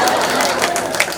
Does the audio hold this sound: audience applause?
yes